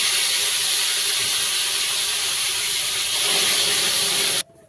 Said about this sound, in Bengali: তেল গরম হয়ে গেছে এই যে মাছগুলো ফেলে দিচ্ছি